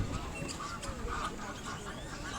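Ducks quacking among other birds at Melbourne Zoo, faint and somewhat distant under steady outdoor ambience and low background noise, with occasional short calls scattered through.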